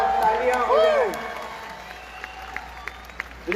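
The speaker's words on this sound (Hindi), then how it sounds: "एक बार जोरदार तालियां हो जाए।" Audience applause at a live comedy show in Vancouver, a crowd clapping beneath a voice and music at first, then thinning to scattered claps.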